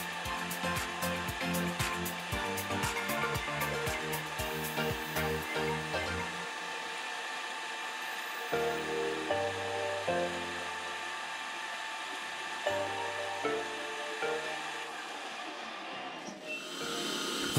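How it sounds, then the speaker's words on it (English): A lathe faces off the reverse side of a flipped crankshaft plate held by its boss in a collet chuck, giving a steady close motor whine with harmonic tones and an intermittent pulsing cutting rhythm, alone without talk. "The crankshaft plate is flipped and held in a collet chuck by the boss, while the reverse side is faced off."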